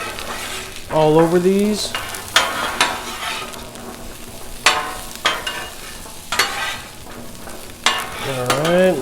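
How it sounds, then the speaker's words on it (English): Tater tots sizzle steadily in oil on a Blackstone griddle, a constant frying hiss broken by scraping spatula strokes, while someone talks briefly. "a nice sizzle going on"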